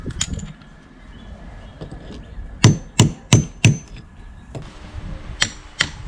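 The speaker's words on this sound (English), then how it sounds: "now we're going to use a chisel and a hammer to gently tap the brick and hopefully remove it" Hammer taps on a chisel against brick: a scattered few, then a quick run of four loud, sharp metallic strikes, with more spaced knocks after.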